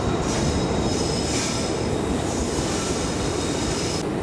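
A passenger train, the Lucknow–Chandigarh special, rumbles along the rails at a station with a high-pitched wheel squeal riding over the steady clatter, close by and loud.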